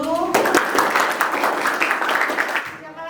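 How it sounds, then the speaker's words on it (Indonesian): Audience clapping at a university counselling best-practice session, a moderate burst starting abruptly after a short voiced tone, steady for about two seconds and then cutting off into quiet. "Silakan tepuk tangan dulu."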